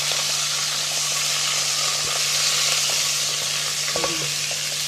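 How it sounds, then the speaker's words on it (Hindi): Steady sizzle and hiss of minced beef frying in oil in a pan, with occasional faint scraping and clicks of stirring, continuous and close. "तो हम ये कीमा डाल देंगे। इसको अच्छी तरह से हमें फ्राई करना है"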